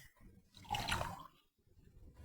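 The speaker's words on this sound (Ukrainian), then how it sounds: "Наливаємо чай." Tea being poured into a cup, a quiet, soft liquid stream that swells in the middle and then fades, with a little faint trickle near the end.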